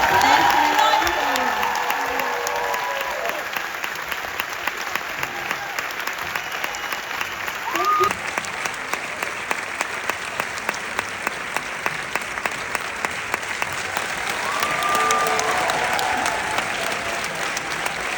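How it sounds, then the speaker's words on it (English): Audience applause at the gala premiere of the film It Ends With Us, a steady broad wash of clapping from a crowd that carries through the whole stretch, with faint voices mixed in under the clapping. "A big round of applause"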